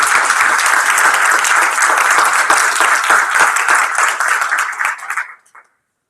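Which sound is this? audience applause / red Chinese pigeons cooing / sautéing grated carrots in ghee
audience applause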